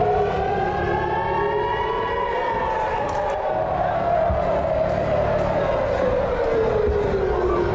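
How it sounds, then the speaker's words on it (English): Rocket warning sirens wail over Ashdod, Israel, a loud rising and falling tone that sweeps slowly up and down for several seconds, with faint crowd noise beneath. "At least 2 rockets set off emergency sirens above Ashdod and nearby Ashkelon on Tuesday"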